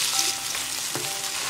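Hotpot base and a big spoonful of bean paste sizzle steadily in hot oil with scallion and ginger, a dense, even frying hiss with a few soft stirring knocks, close and alone.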